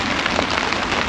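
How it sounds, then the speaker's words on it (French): Heavy thunderstorm rain at a forest campsite in a Quebec zec: a dense, even, loud hiss of rain drumming on surfaces, steady throughout the short stretch with no thunder standing out. "La pluie s'est intensifiée, mais pas plus qu'il faut."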